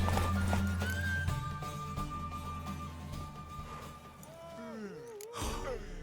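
Hooves clip-clop rapidly, then a horse lets out a loud, wavering neigh near the end, with breathy gasps in between; a mare in the video game The Witcher 3: Wild Hunt.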